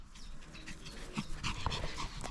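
A small Pomeranian-Chihuahua mix dog pants quickly up close, mixing in soft whimpers and little yips in an uneven, excited rhythm.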